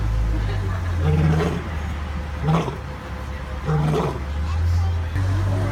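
A lion at Disney's Animal Kingdom lets out repeated deep, grunting roars in a rhythmic series, fairly close and loud over a low outdoor rumble, with people talking in the background.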